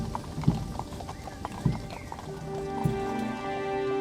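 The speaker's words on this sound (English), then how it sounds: "the steady cadence of a horse-drawn caisson" Horse hooves clip-clop in an even, steady cadence as a horse-drawn caisson moves through Arlington National Cemetery, mid-distance under a sustained musical backdrop.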